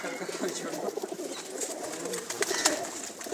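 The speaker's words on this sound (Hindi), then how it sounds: "बहुत अच्छे कबूतर हैं" Pigeons kept on a village rooftop loft coo softly amid faint background noise and scattered light rustles, with low murmuring calls repeating close by.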